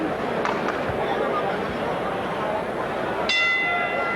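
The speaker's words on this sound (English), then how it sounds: "Here's the bell. That's the end of" A boxing ring bell at Caesar's Palace clangs once to close round six, its bright ringing tone sustaining over a loud, steady arena crowd roar.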